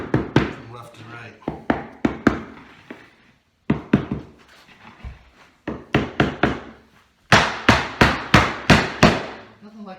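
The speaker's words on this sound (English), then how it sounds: "Nothing like a good hammer." Sharp hammer taps knocking click-together Cali Bamboo flooring planks into place, coming in repeated quick bursts of several strikes with short pauses between, loud and close, with a voice speaking briefly between the blows.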